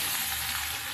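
Onion paste hits hot oil with whole cumin in a wok, giving a loud, continuous close-up sizzle and hiss with no talking.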